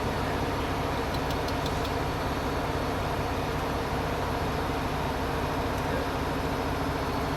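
A CAT 1050 tractor engine idles with a steady, dense low rumble and mechanical hum that stays constant and close throughout, with no pauses or revving.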